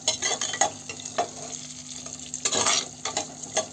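Chopped large onion sautéing in a pan for a village-style country chicken curry gives a soft sizzle under intermittent scraping and stirring strokes, close up, with no talking.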